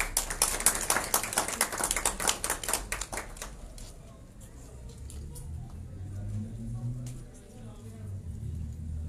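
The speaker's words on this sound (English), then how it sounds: "Let's give a round of applause." Applause at a panel discussion event, a burst of clapping from a small audience that is loudest at the start and dies away after a few seconds, leaving low room rumble and faint murmuring.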